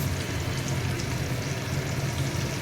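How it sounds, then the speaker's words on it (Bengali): Ginger and fennel paste sizzles in hot oil while greens are being cooked, giving a steady, loud, even hiss with no talking. "ওই তেলেই দিয়ে দিলাম আদা আর মৌরি বাটা"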